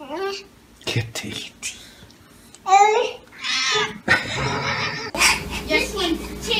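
A cat meows among the sounds of a baby playing with it, several short meows alternating with a child's babble and an adult voice, close and fairly loud.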